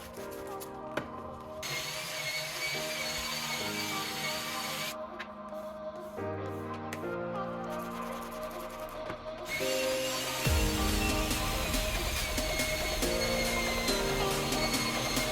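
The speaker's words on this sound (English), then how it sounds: "we'll be using the drill at a slower speed with these pads set to it" Electric drill turning slowly with honing pads on wet tile, a steady whirring grind that runs unbroken, with a rougher, louder passage near the end.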